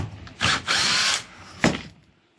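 Power drill driving out a screw on a porch railing, with two whirring bursts followed by a third short burst, close and loud, then stopping.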